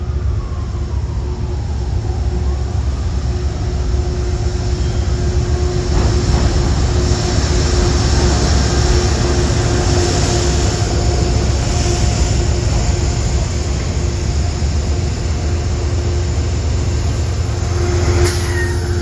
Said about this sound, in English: At 5:17, arriving is train 1848, Grand Central to Danbury, Connecticut